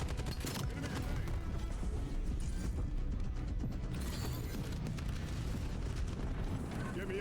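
A grenade blast in the Call of Duty Black Ops 7 video game, a dense, loud, rumbling roar of explosive noise that fills the whole stretch, mixed with game effects and voice chatter.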